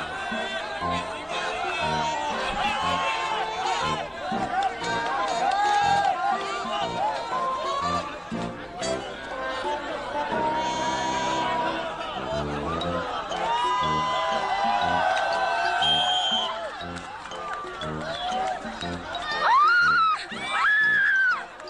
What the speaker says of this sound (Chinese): 听着欢呼声、喝彩声，多热闹啊